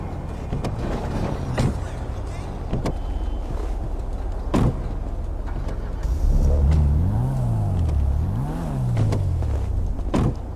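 A car engine revs up and down in rising and falling sweeps, close and fairly loud, amid knocks, clunks and mechanical rattles, with no speech.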